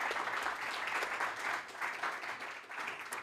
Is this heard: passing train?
no